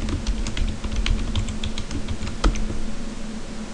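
Computer keyboard typing as a password is entered during an Ubuntu install, a quick run of close, light key clicks at an irregular rhythm over a faint background hum, with no talk.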